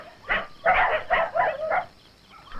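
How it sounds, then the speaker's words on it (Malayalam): Native village dogs bark in a quick, fairly close series of about five sharp barks, then fall quiet. "നായ്ക്കള് കുറിക്കുന്നു"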